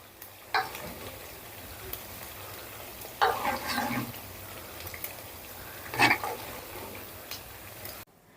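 Rice pitha frying in hot oil, a steady low sizzle with a few louder bubbling bursts as pieces are turned and stirred, close by with no talking.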